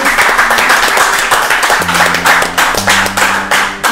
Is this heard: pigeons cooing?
no